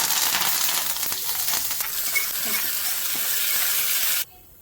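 Mustard seeds, cumin and broken dried chillies sizzling in hot oil, a loud steady crackling hiss that runs continuously and cuts off abruptly near the end.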